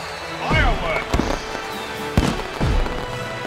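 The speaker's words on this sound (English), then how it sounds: "Fireworks!" Fireworks go off in Pokemon Sword at a champion celebration in Galar, several sharp bursts with whistling rises and crackle, punctuated by loud pops, playing alongside game music.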